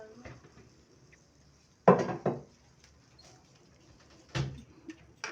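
A utensil beats yogurt in a bowl, giving two short bursts of quick clattering strokes separated by quiet pauses, close and moderately loud.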